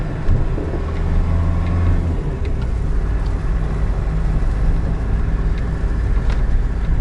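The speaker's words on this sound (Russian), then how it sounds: "Дорога, конечно, у них тут распиздячена вся, пух и прах. Как будто по гравийке едем его." A car drives over a badly broken, gravel-like road, giving a steady low rumble of engine and tyre noise with faint rattles and knocks from the rough surface.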